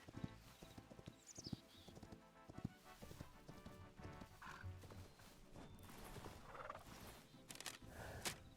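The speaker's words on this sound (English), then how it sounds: "we now have horses" Horses in the Hytale video game, hooves clip-clopping in quick uneven bursts along with neighs and whinnies, fairly faint and close, with no talk.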